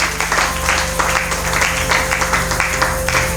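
A church congregation applauds the Lord during a worship service, a dense, steady wash of clapping hands filling the room for a few seconds, with faint voices mixed in.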